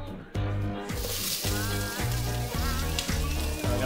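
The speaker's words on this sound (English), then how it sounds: "we have a hot pan, and first in goes our onions" Onions dropped into a hot pan for a lamb ragu burst into loud, steady sizzling that holds at full strength, with pulsing bubbly crackle throughout.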